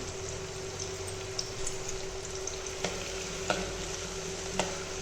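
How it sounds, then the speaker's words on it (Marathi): Finely chopped onion sautéed with a green chilli in a pan for a spicy Agri-style fish curry, a steady soft sizzle broken by a few light stirring taps, no talking. "कांदा व्यवस्थित परतून घ्यायचा आहे"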